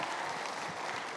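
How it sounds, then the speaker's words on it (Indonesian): An audience at a Christmas sermon gives a steady burst of hand clapping, dense and even across about a second, with no voices over it. "Beri tepukan."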